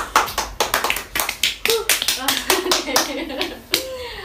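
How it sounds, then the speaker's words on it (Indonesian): A few people clapping hands in a podcast studio, sharp irregular claps with brief pauses, close and fairly loud, while voices talk and laugh over them. "Oh, tepuk tangan."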